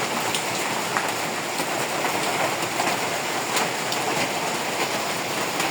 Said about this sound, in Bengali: আর দেখেন বৃষ্টির অবস্থা কি, বৃষ্টি আজকে মনে হয় না যে আজকে ছাড়বে বৃষ্টি।